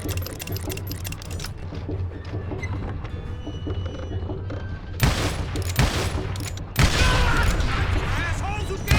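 Western shootout in Call of Juarez: Gunslinger, with rapid bursts of gunfire swelling from a dense rattle into heavier, louder volleys near the end over a low rumbling bed, while voices shout during the fight.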